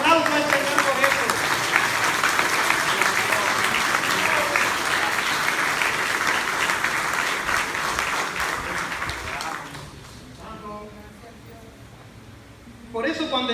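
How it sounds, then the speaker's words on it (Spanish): A church congregation bursts into sustained applause in praise, dense clapping that rolls on for several seconds before fading as a voice begins speaking over the quieter tail. "Un aplauso al Señor por eso."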